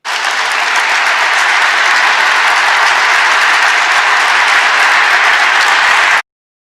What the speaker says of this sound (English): the clapping inside that marble hall